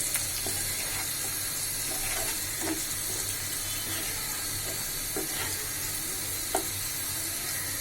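Onions fry in a pan and redden slowly, a steady soft sizzle with occasional light pops and the scrape of stirring, close and unhurried.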